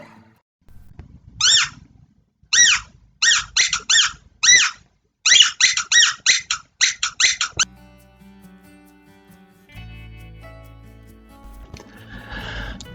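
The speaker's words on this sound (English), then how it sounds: "Now this is the mouse call" A mouse squeak call used to make a fox lift its head: bursts of high, thin, squeaky chirps in uneven clusters, loud and close. A low, quiet hum fills the end.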